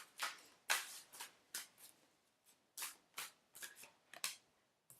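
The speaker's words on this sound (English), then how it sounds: "I want to shuffle first, please." Tarot cards being shuffled by hand, a series of quick riffling bursts in an irregular rhythm, close and fairly soft, with no talk.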